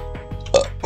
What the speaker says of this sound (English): I've not burped at all until today.